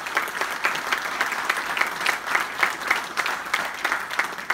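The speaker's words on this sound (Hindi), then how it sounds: "जोरदार ताली देकर उनका अभिनंदन करें" Audience at a business talk claps loudly for a university founder and his team, a brisk, even burst of crowd applause lasting a few seconds without talk.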